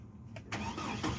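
A Chevrolet Colorado pickup truck engine cranks briefly and fires up, settling into a steady idle; a short, close, loud start with no talking.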